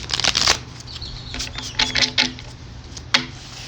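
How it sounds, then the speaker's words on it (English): Tarot cards shuffled by hand, giving a run of crisp riffling bursts and soft flutters close by, with short pauses between shuffles and a sharp snap near the end. "you shuffle very well"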